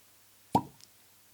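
A cork pops out of a bottle of Benriach Malting Season Third Edition 10-year single malt whisky, giving one sharp, close plop with a short ringing tail, then quiet.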